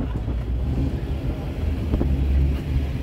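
Engine of an old clean white Oldsmobile 98 at an outdoor car show, a steady low rumble that swells slightly near the end, fairly close and continuous with no talk.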